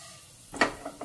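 Cumin seeds, urad dal and chana dal tossed into hot oil in a pan give a brief sizzling burst, followed by a couple of softer stirring scrapes.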